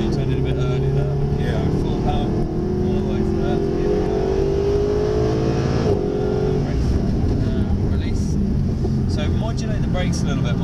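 A Mercedes SLS AMG at full power on a driving-experience course, its engine note climbing steadily under load and then easing off, heard from inside the car with an instructor talking over the continuous roar.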